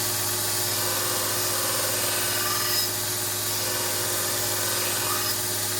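A 36-grit gator belt on a grinder shapes AEB-L knife steel. The grinding noise is steady, loud and continuous, with a constant motor hum beneath and no breaks or talk.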